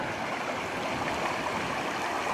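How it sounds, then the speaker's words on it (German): A small stream with frozen edges runs under a little footbridge in a snowy winter landscape, giving a steady, close rushing and gurgling of water throughout with no voices. "An dem Wasserlauf hier."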